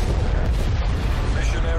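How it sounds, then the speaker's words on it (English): Heavy booming explosions from a napalm strike in Call of Duty: Black Ops Cold War roll together into a loud, continuous rumble with crackling bursts, like a bombardment landing close by. "Sit rep, napalm strike inbound."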